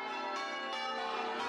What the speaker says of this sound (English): Church bells rang out in panic.